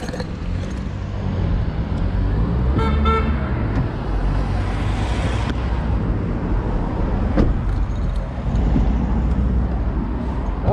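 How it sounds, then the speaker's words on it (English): Cars pass through Cookstown town centre in County Tyrone, a continuous rumble of traffic with a short horn toot partway through and more vehicles swelling and fading nearby. "there's too many noisy cars, Pat."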